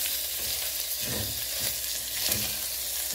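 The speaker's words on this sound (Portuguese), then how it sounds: "já coloquei o óleo, o alho picado, né? Aí tô dando uma friturinha aqui" Chopped garlic fries in hot oil in a pan, giving a steady, close, dense sizzle with crackling and a few faint stirring scrapes, and no talking.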